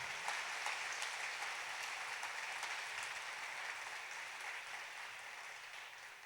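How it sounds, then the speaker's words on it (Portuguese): Church congregation applauding for Christ during a Portuguese-language family service, a sustained wash of clapping from many hands at moderate distance, with no speech over it. "Vamos dar um forte aplauso para Cristo, aleluia."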